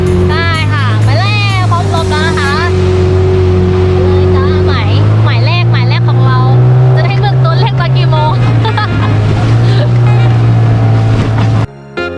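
A squid-fishing boat off Samaesan, Thailand, runs through ocean waves with a steady loud engine drone and rushing water throughout, while someone talks over it.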